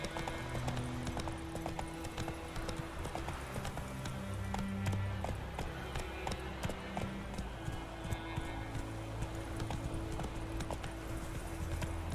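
Roach the horse galloping in The Witcher 3, with a fast, continuous clip-clop of hooves and a steady rhythm throughout.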